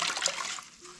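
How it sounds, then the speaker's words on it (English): A dirt bike air filter is rinsed in a clean bucket of water, giving a close burst of splashing and sloshing that fades to a soft trickle. "We're gonna take the clean bucket of water, rinse this out, make sure there's no suds left in it."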